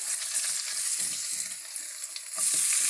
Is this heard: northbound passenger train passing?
no